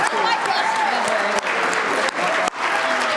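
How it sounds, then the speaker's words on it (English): Audience applause for the cast of a Purim play: loud, dense clapping that fills the room continuously, with a few brief dips, and voices mixed in underneath. "special round of applause for all these people who put in so much hard work to do this"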